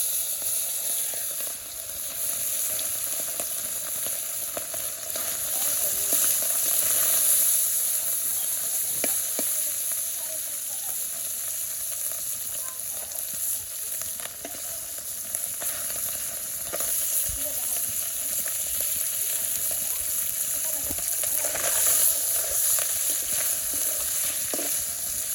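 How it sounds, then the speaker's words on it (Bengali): Fish sizzling steadily in hot oil seasoned with cumin, a loud, continuous crackling fry with a few sharper pops, close by and with no talk over it. "আমার তেল গরম হয়ে গেছে, মাছ ভাজবো।"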